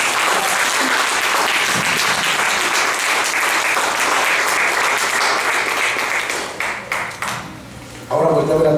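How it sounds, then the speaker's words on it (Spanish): Congregation applauding during a church service: loud, dense clapping that thins and fades over several seconds, then a voice starts speaking. "Denle un aplauso al Señor."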